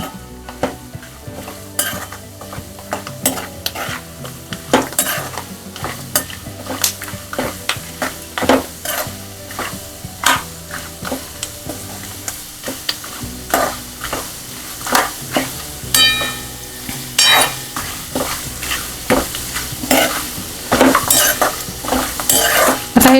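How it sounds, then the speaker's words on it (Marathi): Peanuts, Pandharpuri dal, chillies, curry leaves and coconut are stir-roasted for chivda in a pan, with a soft sizzle under busy, repeated scraping and clinking strokes of the spoon continuing throughout. "हे छान खरपूस भाजल्या गेलेले आहेत सगळे शेंगदाणे, पंढरपुरी डाळ, मिरच्या, कढीपत्ता आणि खोबरं भाजलं गेलंय"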